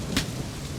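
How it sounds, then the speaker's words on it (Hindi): Rain falls steadily in a Hindi feature film scene, a broad, even hiss with a brief brighter splash near the start, no voices. "बारिश आ गई है"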